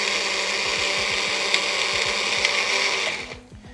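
Magic Bullet blender whirring loudly and steadily for about three seconds with a grinding motor drone, then cutting off and spinning down to quiet near the end.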